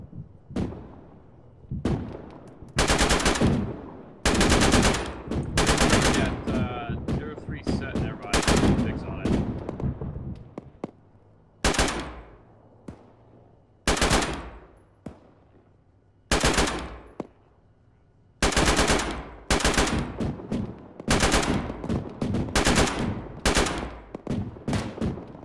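Machine-gun fire in the military video game Arma rattles out in long, loud sustained bursts with brief gaps between them, and occasional voices come through between the volleys.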